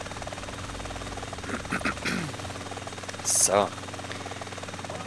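Helicopter in GTA San Andreas with a continuous rotor and engine drone. Someone talks briefly over it.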